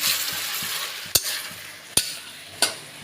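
Lote (Bombay duck) fish curry with coriander leaves being stirred in a hot pan, a continuous sizzle punctuated by three crisp, evenly spaced spatula knocks against the metal.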